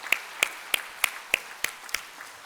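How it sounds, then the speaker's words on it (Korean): Steady, evenly spaced claps, about seven of them, sharp and close, from a church congregation welcoming a guest during a Sunday service. "박수하겠습니다."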